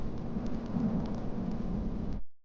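A steady low rumble of thunder rolls under dense rain noise for about two seconds, then cuts off abruptly.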